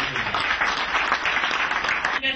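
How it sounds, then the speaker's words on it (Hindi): Dense, steady applause from a seated audience welcoming a guest speaker at a Hindi-language event, many hands clapping at once and close by, filling the whole stretch before it trails off at the end. "आप सभी से जोरदार तालियों से स्वागत करते हैं मिस्टर महेश वर्मा"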